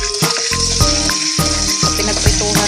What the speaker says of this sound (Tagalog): Tapos, prito ko na rin yung patatas at saka carrot guys.